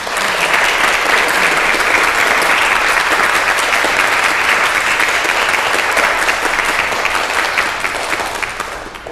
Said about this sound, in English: can we have one more round of applause, please, for Mona Rejino?